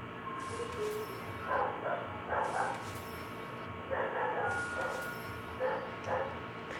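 Dogs bark in short, faint bursts from somewhere in the background, coming in a few separate clusters with quiet gaps between them.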